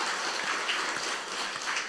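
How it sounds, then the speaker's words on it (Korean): Applause from a church congregation during a Sunday worship service, a steady wash of many hands clapping at moderate distance, fairly faint and continuous with a few low thumps underneath. "우리 박수로 하나님께 영광 돌립시다."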